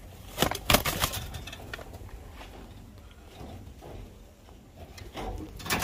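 Soft pigeon coos and rustling come from close by, with a couple of sharper flutters or clatters early on and a low background hum.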